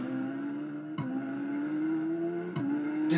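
Shelby Super Snake V8 engine in Roblox Vehicle Simulator, a steady buzzing drone that climbs gradually in pitch as the car accelerates, broken by two brief shift blips.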